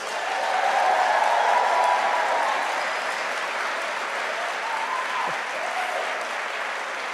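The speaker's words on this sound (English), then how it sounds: "Do you want to give me your loudest possible round of applause, please?" A loud round of applause from graduates and guests in a new hall at a Liverpool University graduation ceremony, a dense roar of clapping that swells early then eases slightly while staying strong.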